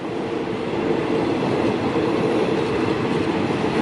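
Southern line train rolling past Bang Son railway halt, a loud, steady rumble of wheels and carriages close by that runs without a break, with no talk.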